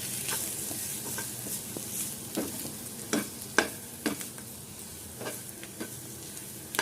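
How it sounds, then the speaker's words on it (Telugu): Chopped onions with fresh coriander sizzle and fry in a pan for an egg onion fry, with repeated close scraping stirs of a spatula over a steady crackle. "ఉల్లిగడ్డ అంతా మంచిగా ఫ్రై అయిపోయింది"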